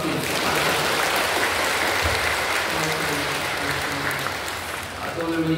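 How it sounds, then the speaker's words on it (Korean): A church congregation applauds warmly at a Sunday worship service, sustained dense clapping filling the room for several seconds before tapering slightly at the end. "다시 한번 우리 아이들 위해서 또 부모님들 위해서 격려하고 사랑하는 마음으로 뜨겁게 박수 주십시오"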